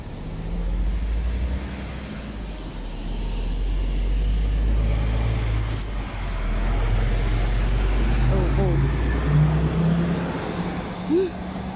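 Road traffic noise comes through an open car window, a loud steady low rumble of passing vehicles and engine drone throughout, with a few faint squeaks and occasional voices in the background.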